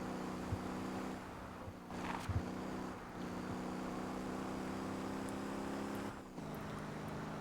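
A vehicle drives in the game Motor Town, giving a steady engine drone with a constant low hum, light road and wind noise, and a couple of brief shifts in tone, without speech.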